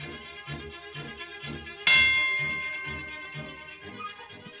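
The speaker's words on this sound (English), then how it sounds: "he keeps ringing the bell by every time he falls over" A single bright clang of a boxing ring bell in a silent-era comedy, struck once over a soft musical score and ringing out with a long decaying tail.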